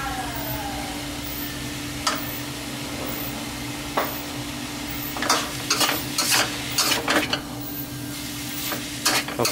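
Spring roll filling is stir-fried in a hot pan with pepper, giving a steady close sizzle broken by repeated scraping and clattering strokes of a spatula against the metal, with no talking.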